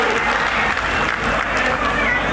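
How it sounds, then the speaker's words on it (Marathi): Loud, steady applause from a large crowd welcoming Devendra ji at a Namo Yuva Mahasammelan youth rally in Nagpur, continuous clapping filling the whole stretch with no pause. "एकदा जोरात टाळ्या वाजवून देवेंद्रजींचं आपण स्वागत"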